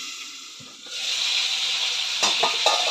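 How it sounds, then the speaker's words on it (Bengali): Prawns sizzle in a hot pan over low gas, starting softly and swelling into a steady, bright hiss, with a few brief sharper spatters near the end and no talking. "চিংড়ি মাছ বেশি ভাজবো না, লাল লাল করে অল্প করে ভাজবো"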